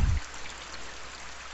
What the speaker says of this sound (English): the rain is actually going to fill up here